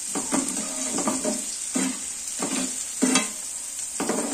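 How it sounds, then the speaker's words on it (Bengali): Chopped onion frying in a pan hisses steadily while a spatula scrapes and stirs in repeated strokes, roughly every half second, close and clear, with no voices. "প্রথমে আমি দিয়ে দেবো পেঁয়াজ কুচিটা। পেঁয়াজ কুচিটা একটু লাল লাল মতো হবে"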